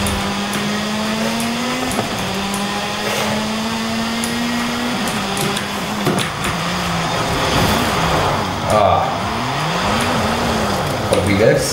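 A car in Forza Horizon 5 whines as it reverses, its engine pitch holding, dropping, then swooping up and down in repeated arcs, with someone talking over it.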